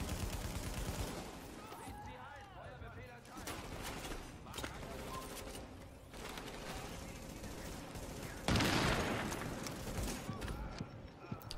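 Video-game gunfire in The Division: rapid bursts of shots in a quiet, distant mix, with a louder burst near the end and a voice talking throughout.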